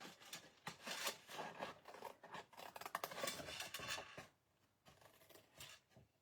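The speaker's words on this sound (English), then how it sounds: "I'm going to cut these guys out" Scissors snipping out paper pieces for a spring basket craft, a run of quick close crisp cuts and rustles, then a brief quieter pause before a few more snips, with no voices.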